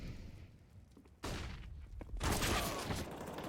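Gunfire in a Counter-Strike match on the Vertigo map, a quiet ambience broken by a sudden burst of shots and then a louder, denser volley of rapid fire.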